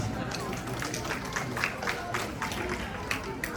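An audience at a Ganesh puja quiz applauding for a child, a dense wash of scattered clapping over a steady crowd murmur, moderately loud and continuous throughout.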